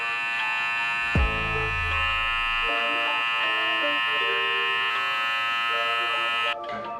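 Electric hair clippers blending a fade with the taper lever set half open, a steady close buzzing hum with a few brief changes in tone as the blade works through hair, ending abruptly.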